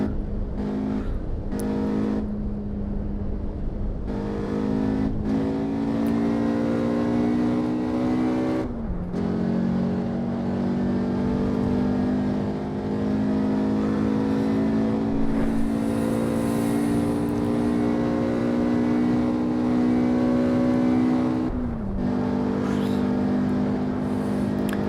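In the Assetto Corsa EVO racing game, a 1990s naturally aspirated six- or eight-cylinder car engine revs hard and loud through repeated gear changes, each climb in pitch broken by brief shift cuts, with no voices.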